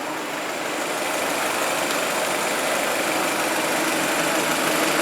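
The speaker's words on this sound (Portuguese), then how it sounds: "Tá aí nosso motor, sereninho" A Citroën C4 2.0 16v Flex engine idles close and loud, a steady, even hum with no misses or surges, running alone without talk.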